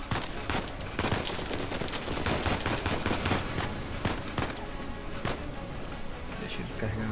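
An enemy emptying his gun in Uncharted 4, rapid irregular shots crackling through a busy firefight mix, steady and moderately loud, with people talking over the gunfire.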